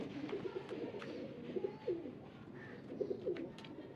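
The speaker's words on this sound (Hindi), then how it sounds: "ये कबूतर बेहतरीन कबूतर है" Soft cooing from fancy antique pigeons kept by a breeder, several low burbling coos repeated through the moment at close range over quiet background noise.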